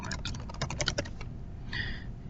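Rapid clicking keystrokes on a computer keyboard, a dense flurry of taps followed by a brief pause and a few more presses, close and fairly quiet.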